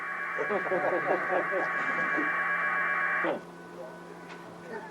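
Packet radio data signal with phase distortion, heard as a steady buzzing, warbling digital tone with rhythmic pulsing underneath, loud for about three seconds before cutting to a quieter hiss of background static.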